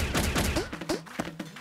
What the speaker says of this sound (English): Use your launcher to send them some real bouncy balls.